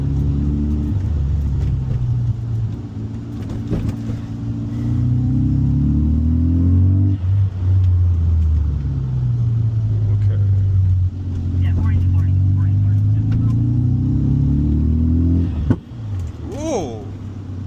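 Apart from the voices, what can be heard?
Veilside Mazda RX-7 car driving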